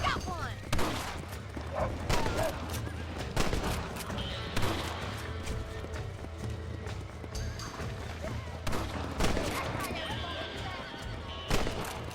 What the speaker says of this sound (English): Look out! Coyotes! Shoot them before they get to the animals.